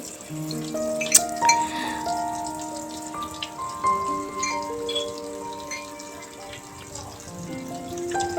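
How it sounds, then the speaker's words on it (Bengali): Tea-stained cups are washed under a running tap: a steady stream of water with ringing ceramic clinks and knocks as the dishes touch, close by and moderately loud. "তো এখানে কিছু আর কয়েকটা বাসন আছে এগুলো ধুয়ে নেব"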